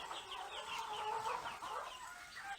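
Chickens on a poultry farm in Ghana cluck in a busy, overlapping chorus of short calls, fairly close and continuous.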